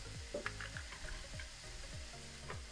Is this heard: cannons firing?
no